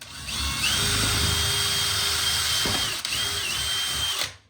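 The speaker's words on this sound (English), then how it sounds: "drill a hole through the MDF" A power drill whines steadily at high speed, cutting a hole through MDF for about four seconds with a brief dip midway, loud and close.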